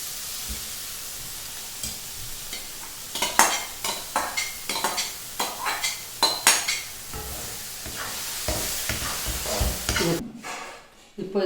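Spinach paste for palak paneer is stirred into a frying pan, with repeated scraping and clinking strokes of a spoon over a soft sizzle before the sound cuts off abruptly.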